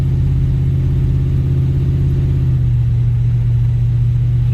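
A Chevy S10 pickup with a straight axle conversion and a freshly swapped TCI transmission idles steadily, a loud, continuous low engine rumble that dips slightly in pitch partway through, with no talking.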